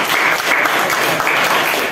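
Loud, close applause from a group of people in a classroom session, brisk and continuous clapping for about two seconds with no talking over it.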